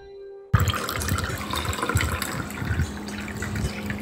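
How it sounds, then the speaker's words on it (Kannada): Water pours into a glass of fruit squash to make sherbet, starting abruptly after a brief quiet moment and then running as a steady, close splashing trickle. "ನೀರನ್ನು ಸೇರಿಸಿ"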